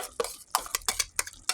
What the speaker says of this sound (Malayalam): അരപ്പൊഴിച്ച് നന്നായിട്ട് ഇളക്കി പാകത്തിന് വെള്ളം ഒഴിച്ച് ഇളക്കി കൊടുക്കുക